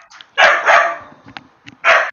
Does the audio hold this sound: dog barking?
yes